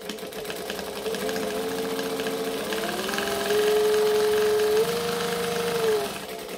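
A sewing machine runs steadily while stitching a laptop case, softer fabric underneath, with a joining stitch length; the motor hum holds for several seconds, rising in pitch and loudness partway through before easing off near the end.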